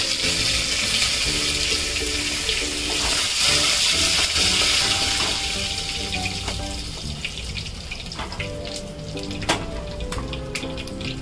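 Asafoetida and curry leaves hit hot oil with sesame seeds for a traditional Bhogichi bhaji made without onion or garlic, and a loud, bright crackling sizzle fades to scattered pops and a few stirring clinks.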